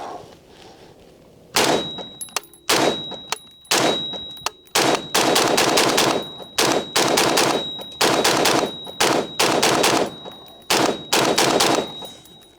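Repeated gunfire from a DesertTech MDRx rifle shooting PMC bronze ammunition, about a dozen loud, sharp reports in quick irregular bursts with metallic clanks between, close and unaccompanied by speech.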